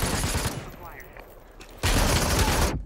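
Bursts of rapid gunfire crack in the Super People shooter game, a heavy volley at first, then a quieter gap before a second loud sustained burst, with a voice speaking under the shots.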